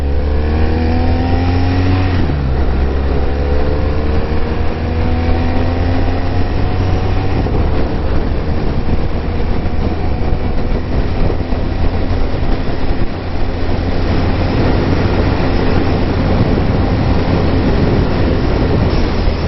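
Continuous loud engine roar from a BMW R1200RS motorcycle accelerating with the quick shifter, rising in pitch and then dropping smoothly at the gear change from third to fourth, with strong wind noise throughout.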